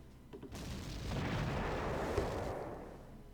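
Artillery fire in the wartime strategy game Panzer Corps, a dull rumbling blast that swells after a brief pause and rolls on as a sustained, fairly distant roar before fading.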